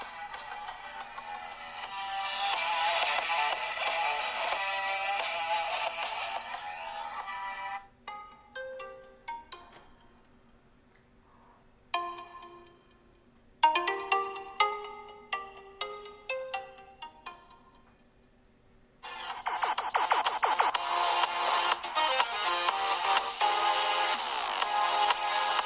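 Music plays loudly from the speaker of a Doogee Shoot 1 phone, a fairly distant, thin-sounding track with bright dense passages broken by sparser plucked and stabbing notes across the whole stretch.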